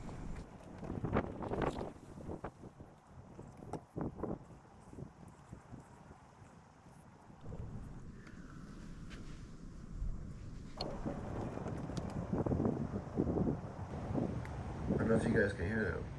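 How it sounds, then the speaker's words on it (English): Strong wind blowing outdoors at a yurt campsite, gusting and buffeting the microphone with a low rumbling roar that swells and eases throughout, with no clear speech. "I don't know if you guys can hear the wind or not."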